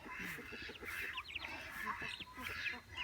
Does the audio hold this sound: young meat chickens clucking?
yes